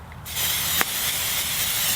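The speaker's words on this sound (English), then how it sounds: "I'm gonna go ahead and spray down" Pam cooking spray sprayed onto a cooking surface over an Otzi Spark flat pack wood stove outdoors, a loud, close, steady hiss that starts abruptly and runs continuously.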